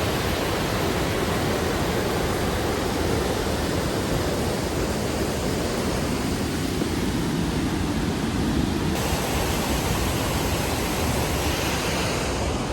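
Bailey Chute waterfall in Canada roars close by, a dense, steady broadband rush of falling water that fills the whole clip with no other sounds.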